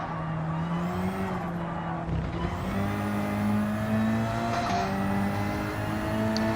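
A Hyundai Elantra race car in a racing video game drones its engine steadily with shifting revs, mixed with tire squeal and skidding as it slides through corners, loud and continuous throughout.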